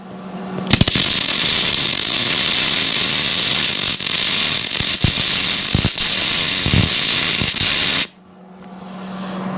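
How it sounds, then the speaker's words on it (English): Steel sign mount being arc welded, a loud steady crackling hiss running for about seven seconds with small pops, then cutting off abruptly to near quiet. "So we can go ahead and put a couple more welds."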